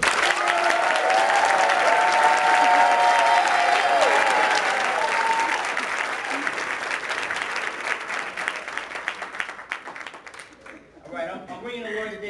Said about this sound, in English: I want you to give the biggest round of applause that you have ever given in your life.